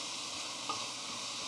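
Lean pork browns in a pan for an egg roll bowl, giving a soft, steady sizzle and hiss with one faint clink of a utensil partway through.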